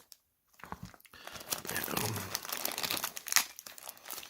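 Crinkling plastic bag from a sealed 24-piece professional lock pick set with soft case, rustled and crumpled up close in steady handling after a brief silence, with no talking.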